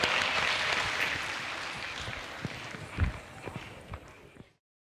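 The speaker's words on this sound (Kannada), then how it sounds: "ನಮ್ಮ ಪುಟಾಣಿಗೋಸ್ಕರ ಒಂದ್ಸತಿ ಜೋರ ಚಪ್ಪಾಳೆ ತಟ್ಟಿರಿ" An audience at a children's Bharatanatyam dance performance breaks into loud, dense clapping that slowly thins into scattered claps before stopping abruptly.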